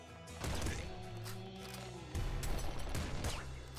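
Rapid bursts of gunfire in the Nuclear Throne video game, a dense, loud fusillade of shots with no talking.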